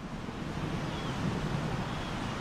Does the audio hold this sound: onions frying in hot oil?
no